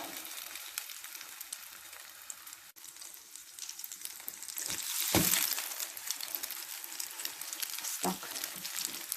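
Egg-and-milk-dipped bread sizzles and crackles in a frying pan over low heat, a steady hiss with occasional louder spits and a clink partway through.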